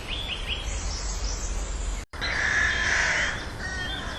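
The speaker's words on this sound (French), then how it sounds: "Des corbeaux qui sont nombreux à faire leur nid dans les platanes." Crows nesting in plane trees in a park give repeated harsh caws, some distant and some closer, over a low background hum with a brief dropout midway.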